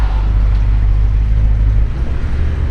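A 1966 Ford Mustang coupe with a 289 V8 and automatic transmission drives along, its loud low engine rumble steady and then dipping slightly as it shifts gears, with no talk.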